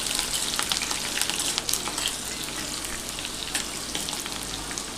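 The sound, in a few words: green chillies frying in oil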